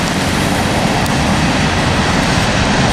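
A short freight train rolls past heading north on a gloomy winter day, a loud, continuous close rumble of wheels and cars filling the whole stretch.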